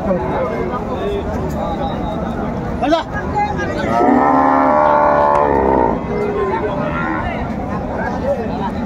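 At a rural cattle market with cows and calves, one long, close moo rises above constant crowd chatter and background noise, with people talking throughout.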